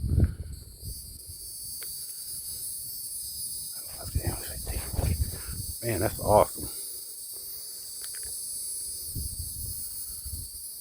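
A massive honey bee swarm outdoors gives off a steady, high insect drone throughout, with someone talking over it in a few short bursts.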